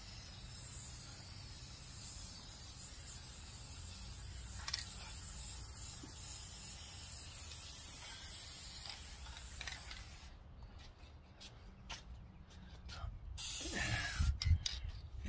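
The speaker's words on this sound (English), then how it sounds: "I break out the spray paint products" Aerosol spray paint hisses from a can outdoors while coating 1967 Mercury Cougar upholstery pieces, a steady broadband spray running under wind noise for about ten seconds before giving way to short bursts and handling sounds.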